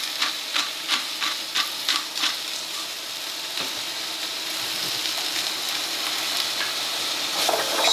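Vegetables with celery salt and black pepper soften in a pot for chilled celery soup, giving a steady close sizzle with a run of quick scraping stirs at the start before the sound settles into an even hiss.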